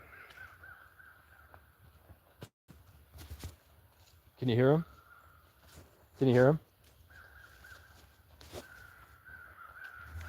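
Two loud crow caws ring out a couple of seconds apart, harsh and close, between quiet stretches where a person speaks softly.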